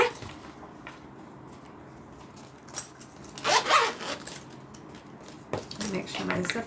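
The zipper of a handmade zip-around wallet rasps in a few short bursts, with a brief louder zip near the middle and another toward the end among light handling noises.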